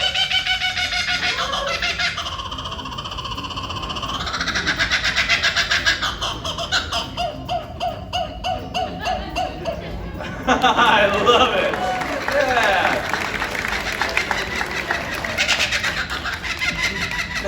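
A loud, rising and falling kookaburra call, its raucous laughing cackle repeating over many seconds, with a few words spoken briefly, at an indoor animal show at SeaWorld Orlando.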